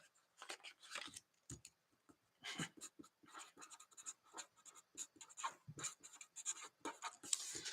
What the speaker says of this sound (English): I'm going to write your name down.